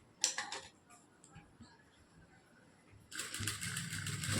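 A sewing machine stitching a blouse back neck design runs in a fast, steady ticking patter that starts loud near the end after a short earlier burst, close up with quiet room noise between.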